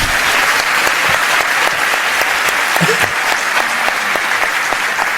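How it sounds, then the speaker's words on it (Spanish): A large audience claps steadily, dense and loud applause sustained throughout without a break. "¿A qué le dan ustedes ese aplauso?"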